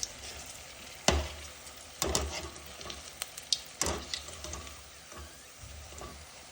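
Green chilies coated in gram flour batter fry in hot oil for mirchi bhaji, giving a steady sizzle broken by several sharp crackling bursts and spatters as the pieces are turned. The sound is close and carries no talk.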